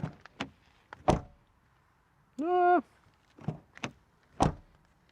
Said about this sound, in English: keyless entry and door closing sound. Solid.